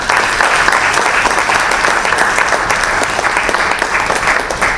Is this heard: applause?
yes